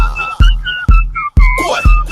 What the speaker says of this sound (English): Everybody blow your whistle.